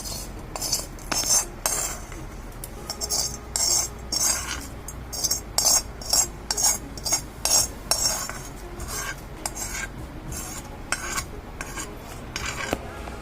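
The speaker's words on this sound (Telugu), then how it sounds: "దీన్ని ఈ పచ్చడిలో వేసి కలుపుకున్నాం." A spoon stirring a tempering into ajwain-leaf chutney in a bowl, with repeated close scraping and clinking strokes in an uneven rhythm.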